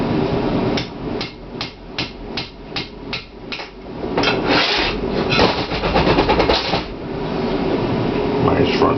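Repeated hammer blows ring out against metal while a C6 Corvette clutch and pressure plate are removed, a quick rhythmic series of sharp strikes followed by denser clanking over a steady background hum.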